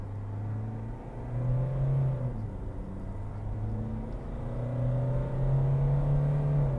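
A Land Rover Freelander pulls away from a standstill under full throttle, its engine note rising through a couple of gear changes as a muffled, moderately loud drone heard from inside the cabin, with no talking.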